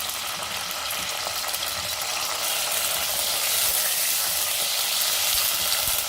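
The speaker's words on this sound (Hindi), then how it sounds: "अब इसी तरह से हम भिंडियों को भी फ्राई कर लेते हैं हल्का सा।" Okra (bhindi) frying lightly in hot oil for a Sindhi-style mixed vegetable dish, a steady close hiss and crackle that holds for several seconds with no talking.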